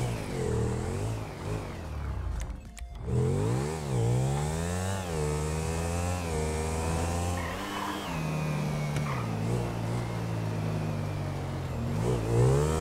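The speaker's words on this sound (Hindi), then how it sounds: "यहाँ से अपनी बाइक उठाते हैं जो कि है KTM RC390" A KTM RC390 motorcycle engine in the GTA V video game drones and revs continuously while riding, its pitch rising and falling through gear changes with a brief dip near the start, loud and steady throughout.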